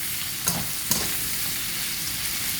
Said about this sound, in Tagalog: So, let us saute that first.